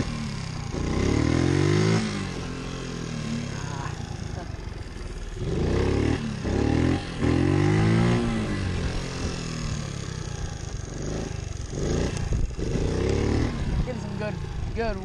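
A pit bike engine revs hard during wheelie practice, rising and falling in several loud throttle bursts with steady mid-pitched buzzing between them, heard up close.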